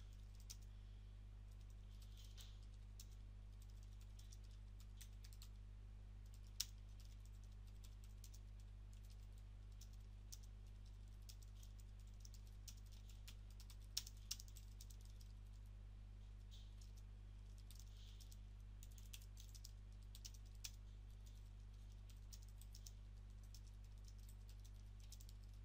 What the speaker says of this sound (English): we're going to type our post